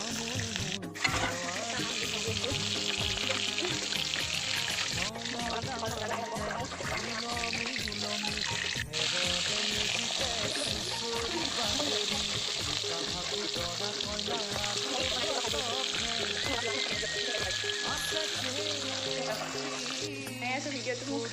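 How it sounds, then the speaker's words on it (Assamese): Fish frying in a pan in a home kitchen, a continuous close sizzle and crackle with occasional stirring, steady throughout with faint voices in the background. "এতিয়া মই মাছ ভাজি আছোঁ এনেকৈ"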